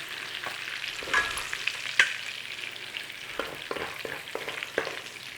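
Bacon frying in its own rendered fat in a baking tin, a soft steady sizzle with a few scattered pops and light scraping, moderately close.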